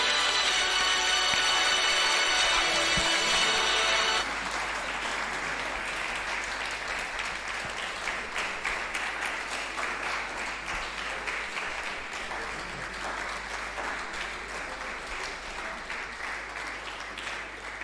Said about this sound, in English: Thank you for clapping for her.